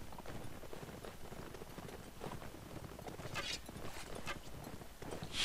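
Horse hooves in Mount & Blade: Warband clatter in a quick, uneven rhythm, fairly faint and distant, mixed with scattered clanks and battle noise.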